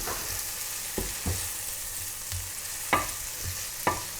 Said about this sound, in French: On va y verser les échalotes. On va les faire cuire jusqu'à ce qu'elles deviennent translucides.